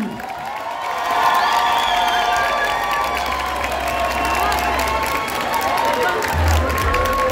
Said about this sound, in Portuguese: Eu queria que todos dessem uma salva de palmas para os alunos do Colégio Miago.